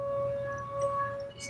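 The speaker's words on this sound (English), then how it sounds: "And again, I do apologize for the sirens." Civil defense siren during a routine test, a steady wailing tone held at an even pitch with faint background noise, heard at a distance throughout.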